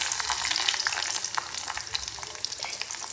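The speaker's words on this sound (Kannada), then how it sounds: "ಈಗ ಎಣ್ಣೆನೂ ಬಿಸಿ ಆಗೈತಿ ಇದಕ್ಕೆ ಉಳ್ಳಾಗಡ್ಡಿ ಹಾಕ್ಕೊಳ್ಳೋಣ" Onions frying in hot oil, a dense steady sizzle with scattered crackles and pops throughout, fairly close and with no talking.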